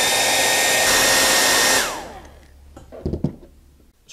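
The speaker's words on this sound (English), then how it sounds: "I think a hairdryer will work on the highest temperature setting." A hair dryer on its highest heat setting, used to shrink heat-shrink tubing on an iPhone charging cord, blows with a loud, steady whir that winds down and stops midway, followed by a few faint handling knocks.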